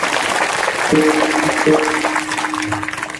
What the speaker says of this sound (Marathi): तुम्ही जोरात टाळी वाजवा.